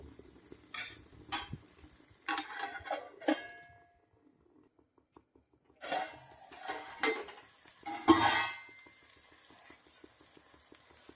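Brinjal curry cooks in a pan on a low flame with cinnamon and garlic, heard as faint intermittent sizzling with spoon scrapes and utensil clinks in short bursts, separated by a near-silent pause.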